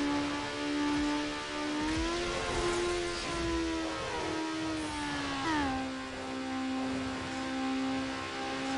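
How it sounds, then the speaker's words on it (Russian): Mazda Miata engine in the NFS Underground video game revs steadily during a drag race, a continuous whining drone that rises and shifts pitch through gear changes, with no talking. "до скольки крутит мотор"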